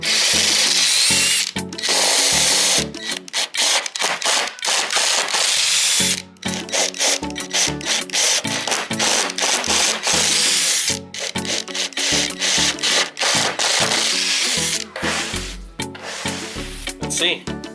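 A handheld power drill bores holes in a home-built indoor cycling trainer platform, its motor whining loud and close in repeated bursts with brief pauses between, the bit changed partway to size holes for a washer and bolt.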